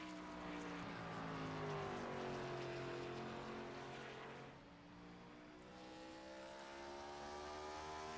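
A NASCAR Gen 4 race car in qualifying roars down the backstretch toward turn three, its engine droning loudly and steadily with a rising and falling pitch as it passes, no voices present.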